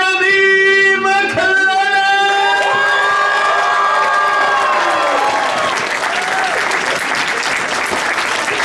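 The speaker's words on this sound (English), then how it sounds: "Please give a nice big cheer and a nice warm welcome for our brother, Jeremy." A dinner crowd at a fundraising event welcomes a speaker with loud applause, cheering and whoops. Sustained tones ring at the start, then the clapping swells and carries on as a dense, close wash of sound.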